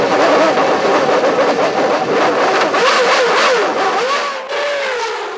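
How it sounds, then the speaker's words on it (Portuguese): A Williams Formula 1 car's misfiring Renault engine revs loud and close, its pitch rising and falling unevenly as it sputters, with a sudden drop in level near the end. "Dá até para ouvir o motor Renault da Williams rateando."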